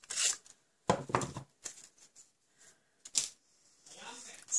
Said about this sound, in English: So I've only got this little bit to cut off now